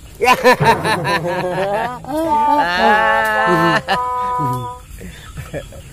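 A goat bleats loudly and close several times in a row, giving quavering, wavering cries, with one long drawn-out bleat in the middle followed by fainter short calls.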